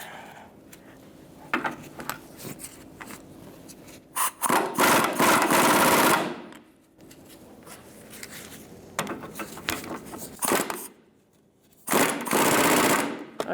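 Bursts of ratcheting and rattling from a socket wrench working the bottom nut of a front sway bar link on a 2013-2018 Toyota RAV4, loud close-up mechanical clatter in several spells with quieter gaps between.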